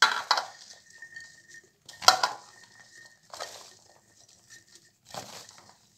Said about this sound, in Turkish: Şimdi kavanozlarımıza biberlerimizi dolduralım.